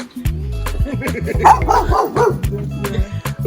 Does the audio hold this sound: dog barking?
yes